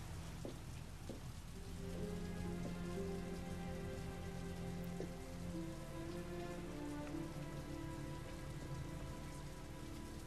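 Heavy, steady rain pours throughout in the video game Heavy Rain, a dense continuous patter with faint tonal game music beneath, no talking.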